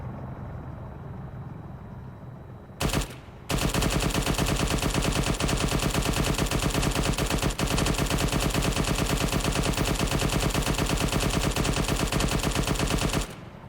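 Machine gun fire in the Arma 3 military game: a brief burst, a short pause, then one long unbroken stream of rapid shots, loud and close, over a lingering rumble, with no talk.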